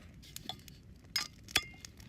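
Glasses or bottles clink together in a toast while beer camping in Maine, a few sharp, bright chinks close by, one light tap followed by a louder ring, over faint outdoor background.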